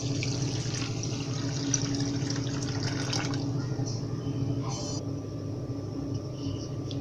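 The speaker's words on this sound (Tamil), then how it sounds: "இந்த இதில் தண்ணி அளந்து ஊற்றிக்குங்க" Water is poured from a measuring tumbler into a wide cooking vessel while making instant gulab jamun syrup. A steady splashing stream runs for several seconds over a low kitchen hum, then tails off into a few drips.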